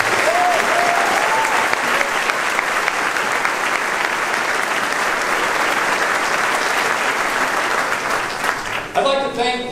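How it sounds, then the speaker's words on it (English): Loud, steady audience applause fills the room at an official university presidential announcement, sustained clapping throughout before it thins out near the end. "Let's give them a big round of applause."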